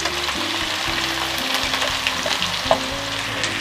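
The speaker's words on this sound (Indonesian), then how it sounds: "Saya tumis terlebih dulu bawang merah dan bawang putih yang sudah diiris tipis." Thinly sliced shallots and garlic sauté for an eggplant and tuna stir-fry, making a loud, close, constant sizzle with stirring scrapes and a sharp utensil knock near the end.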